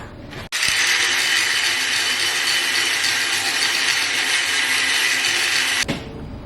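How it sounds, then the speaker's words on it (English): Angle grinder fitted with a 1/4 inch disc grinding down porosity in a weld bead on a 2G/3G SMAW repair plate, one loud steady abrasive grind running about five seconds, starting and stopping abruptly. "we're going to grind this down and with our 1/4 inch rock"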